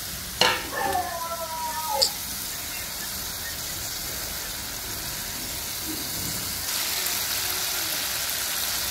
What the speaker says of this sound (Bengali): শুটকিগুলো দিয়ে ভালো করে কষাবো।